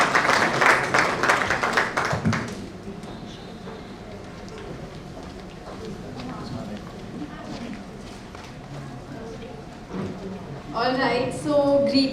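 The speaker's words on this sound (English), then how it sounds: "can we have a huge round of applause and welcome her warmly on the stage" Audience at a grooming talk applauding to welcome a speaker onto the stage, a loud burst of clapping for about two seconds that fades into room murmur, then a voice begins speaking near the end.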